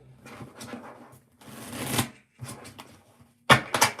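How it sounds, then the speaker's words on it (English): Tarot cards are shuffled by hand in several close, crisp riffling bursts separated by short pauses. "Let's shuffle it one more time."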